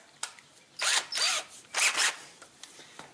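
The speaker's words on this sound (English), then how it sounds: "So I need to drill a hole through this sucker." Power drill boring a hole through wood for a carpenter bee trap, in short whining bursts with brief pauses between, close and moderately loud.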